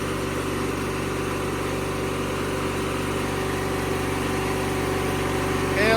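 A 1997 MTD Yard Machines riding lawnmower engine holds a steady, loud mechanical drone close by, running continuously without a clear drop in pitch, with a brief noise at the very end.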